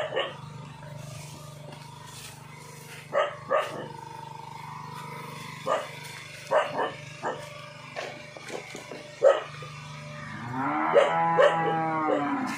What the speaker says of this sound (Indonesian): Sapi Bali ya